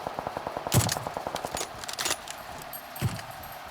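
Video game gunfire rattles out in a rapid automatic burst, followed by a few louder, sharper shots spaced over a few seconds, with no talking.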